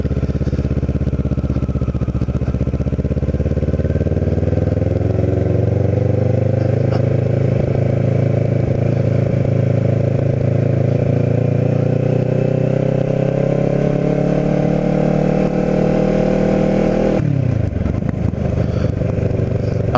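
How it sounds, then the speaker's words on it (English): Vehicle driving down Pacific Avenue in Wildwood Crest, a loud continuous engine and road rumble that rises steadily in pitch as it accelerates, then shifts abruptly near the end. "I'm driving down Pacific now"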